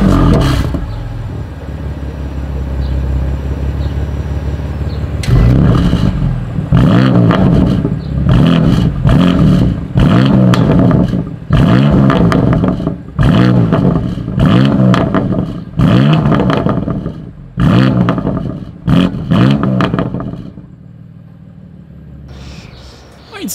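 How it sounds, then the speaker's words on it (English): A 2020 BMW M2 Competition engine revs repeatedly after a steady idle, a series of sharp, loud exhaust bursts with brief pauses, then settling back to idle. "Here is that exhaust clip."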